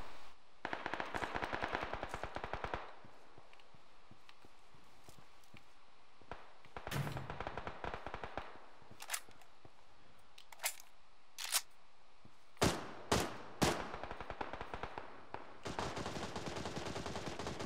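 Gunfire in the video game PUBG, with rapid bursts of automatic fire and scattered single shots cracking sharply over about eighteen seconds, loud and close, separated by quieter gaps of game ambience.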